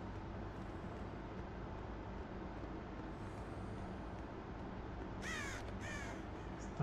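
A crow caws twice in quick succession in the horror video game Dead by Daylight, the harsh calls rising clearly over a constant dull rumbling ambience near the end.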